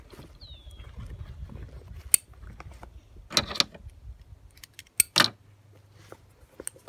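Metal carabiners clink sharply a few times as they clip onto webbing straps while a tire storage bag is secured on an overland vehicle, close and bright against quiet rustling.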